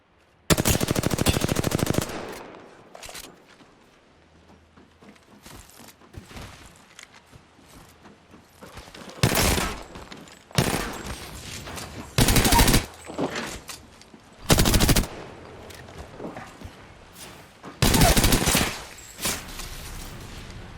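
Bursts of automatic gunfire in a shooter video game crack out in several sharp volleys, loud and close, with quieter scuffling and movement sounds between them.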